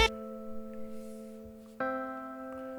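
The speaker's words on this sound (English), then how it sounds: "So if we were just to listen to the straight hybrid keys," Hybrid Keys synth preset playing a dry sustained chord that rings steadily, then a second chord struck loud and held, with no talking.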